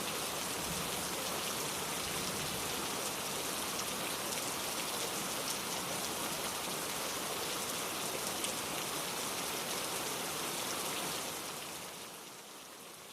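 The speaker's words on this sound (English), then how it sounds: "the rain began to fall harder, pouring down in sheets" Heavy rain pours down steadily in a dense, even hiss of drops on surfaces that fills the whole scene, holding loud and constant before easing off slightly near the end.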